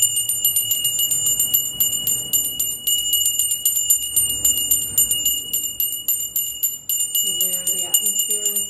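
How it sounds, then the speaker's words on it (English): A small ritual bell rings steadily at the start of a noon rite, its bright sustained tone shimmering with rapid repeated strikes, close and fairly loud, with a voice starting to speak faintly beneath it near the end. "Clear the atmosphere with some vibrations from our little bell here."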